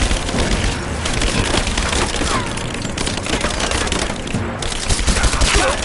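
A gunfight in Rise of the Tomb Raider brings rapid, cracking shots and splintering impacts, dense and continuous, with brief bursts layered over one another at close range.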